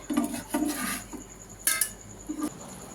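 A cooking pot lifted off a gas stove after making a fish paturi of small gang morola fish, giving a few light metallic clinks and scrapes of metal on metal close by, with a faint hiss behind.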